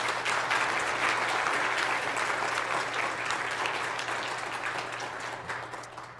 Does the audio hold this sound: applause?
yes